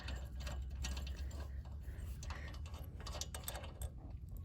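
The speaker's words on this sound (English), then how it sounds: "But let's get this bottom bolt off" A ratchet wrench loosens the carburetor bowl bolt on a Predator 459cc engine, clicking rapidly in close, steady bursts.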